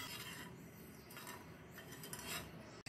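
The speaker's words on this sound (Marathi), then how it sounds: "ढवळत राहायचं." Sugar and water stirred in a pot on a medium gas flame for a Marathi rasmalai syrup, a continuous close scraping and swishing of a spoon against the pot, ending in a sharp clink.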